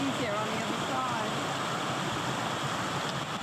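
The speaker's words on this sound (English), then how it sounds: "There it is, the waterfall." A waterfall near the Skye Bridge gives a steady, full rushing noise that fills the scene evenly from start to end, with faint voices partly under it.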